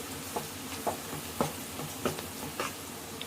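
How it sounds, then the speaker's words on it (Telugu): Moong dal fritters with raw mango frying in hot oil: a low, steady sizzle broken by soft, regular scraping taps from stirring about every half second, close by with no voices. "చూసారా బాగా ఫ్రై అయిపోయాయండి"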